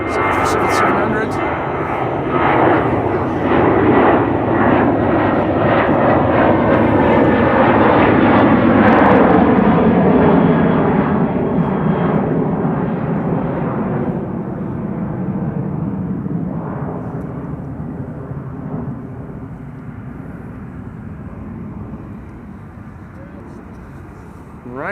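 A KLM airliner bound for Vienna takes off from Amsterdam Schiphol, its loud jet roar swelling to a peak then slowly fading as it climbs away, with faint voices beneath.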